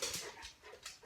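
A dog close by, giving short whimpering, panting sounds in a brief burst with no one talking.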